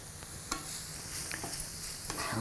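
Sausage browning in olive oil in a pan, with a soft continuous sizzle and a few light stirring clicks, close and fairly quiet.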